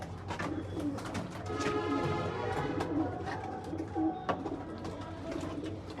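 Pigeons coo softly and repeatedly in a room where an animal has got in among the birds, the low murmuring calls overlapping with scattered rustling and bumps close by.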